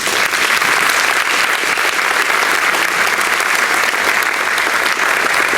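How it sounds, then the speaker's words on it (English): Diners at a spring reunion banquet applaud honored alumni, a loud, dense, continuous wave of clapping from a large room that holds steady for several seconds without speech. "Please celebrate our honored alumni with your applause."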